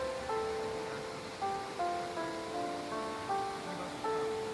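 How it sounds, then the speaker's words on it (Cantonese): Shirahige Falls in Biei, Hokkaido, where groundwater spills from a rock wall amid snow, gives a continuous broad rushing roar, with a melodic tonal line running over the water. "白蘇瀑布係10升落地下水由岩壁流出嚟形成嘅瀑布"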